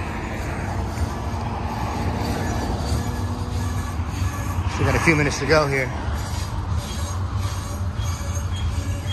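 A BNSF double-stack domestic intermodal freight train rolls past near the San Bernardino hub, a steady rumble of wheels with a brief burst of squealing midway, while someone talks over it.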